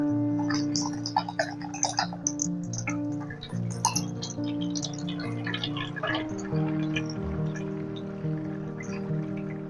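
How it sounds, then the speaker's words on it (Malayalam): Well water pours into an alkaline water jug filter, giving steady trickling and dripping with a few light clinks of the jug, moderately close and without speech. "ഈ ഫിൽറ്ററിനകത്തേക്ക് നമ്മൾ ഒഴിക്കുകയാണ്."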